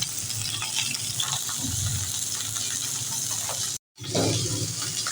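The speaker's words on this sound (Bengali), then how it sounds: "মাছটা একটু বেশ লাল লাল করে ভেজে নিতে হবে" Tuna fish pieces sizzle and crackle steadily in hot oil, a dense continuous frying hiss with a brief dropout near the end before the sizzle resumes.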